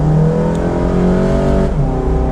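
A car accelerates on the Nurburgring track during a tourist drive, its loud engine sitting close and rising steadily in pitch, with a brief gear-change dip near the end and no voices.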